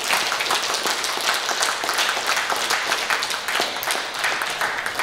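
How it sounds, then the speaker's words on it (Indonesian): Sustained, enthusiastic applause from a large audience, dense clapping continuing evenly throughout. "Tepuk tangan yang meriah."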